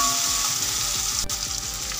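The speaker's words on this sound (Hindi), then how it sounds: "थोड़ा सा हम इसको हिला लेंगे।" Salted, chili-seasoned food sizzles steadily in a hot frying pan while a utensil stirs it with soft rhythmic scrapes, close and loud, with no voices.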